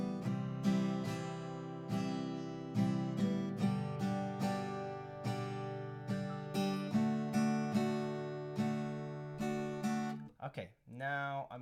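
Strummed rhythm guitar playing a repeating pattern with extra emphasis on the beginning and end of each bar, clear regular strokes close up, ending in a brief scrape of string noise.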